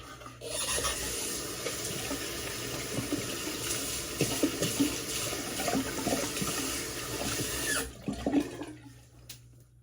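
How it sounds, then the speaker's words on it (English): Tap water runs steadily into a bathroom sink while someone splashes and wets their face, with soft intermittent splashing over the continuous flow before it cuts off near the end. "So I'm going to go ahead and just wet my face."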